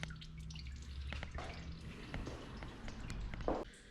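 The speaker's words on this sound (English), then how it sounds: "Somehow there's coolant still trickling out into my catch pan." Engine coolant trickles and drips into a catch pan beneath a dirty engine bay, a steady close wet patter with a few louder drops standing out over low garage rumble.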